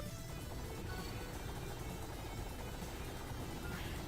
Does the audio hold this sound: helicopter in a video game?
yes